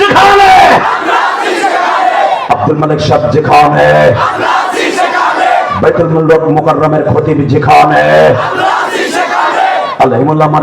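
A large crowd at an Islamic sermon gathering roars back in loud, rhythmic chanted takbir responses, trading with a leader's amplified calls in repeated bursts.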